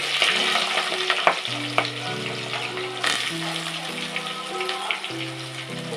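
Onions with cinnamon, cloves, bay leaf, green chillies, curry leaves and cashews fry in oil for vangibath, a steady close sizzle with scraping stirs and clinks throughout, while faint background music plays alongside.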